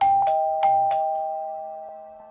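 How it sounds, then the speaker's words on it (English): A doorbell rings with bright repeated chimes, then a single ringing tone lingers and slowly fades out, clear and close. "He rang the doorbell"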